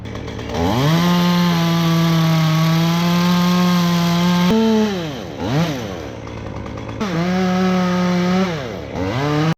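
A chainsaw cuts a notch and back cut into a storm-damaged tree, loud and close with a steady droning whine that dips and revs back up between cuts.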